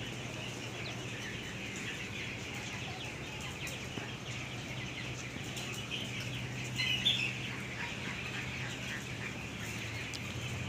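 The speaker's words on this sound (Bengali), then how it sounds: "সবাই পানি খাওয়ার জন্য পাগল হয়ে গেছে। আজকে মুরগির 16তম দিন চলতেছে।" Broiler chickens around sixteen days old cluck steadily in a poultry farm shed, a dense continuous flock murmur with a few louder calls, heard alongside a low ventilation fan hum.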